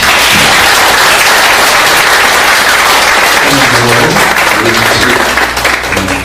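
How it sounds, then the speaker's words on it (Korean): Sustained applause from an audience at a Christian diaspora academy gathering, loud and dense clapping filling the whole stretch with a faint voice briefly audible near the end. "지금 한번 박수 하겠습니다"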